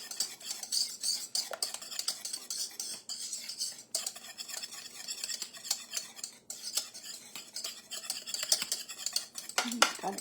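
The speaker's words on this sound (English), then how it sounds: "You just want to stir that up, make sure it all gets dissolved" A spoon stirring strawberry pie jello mixture in a bowl, a close, busy run of rapid clinks and scrapes against the dish, with no talking.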